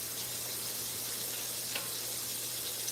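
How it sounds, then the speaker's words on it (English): Pork chops sizzle steadily in a hot pan, a soft, even crackle and hiss running throughout with a couple of small pops and no talking. "They are frying good, frying good."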